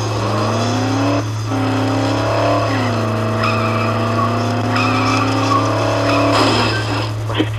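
A car in the video game Dead Island skids along with a sustained tire squeal over a steady engine drone, the pitch sliding and wavering throughout, while people talk over it.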